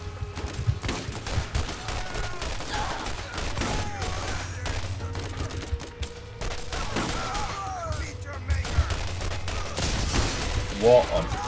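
Bursts of gunfire from a Borderlands co-op session crackle through the whole stretch, with rapid shots and bangs over a steady game backdrop and effects.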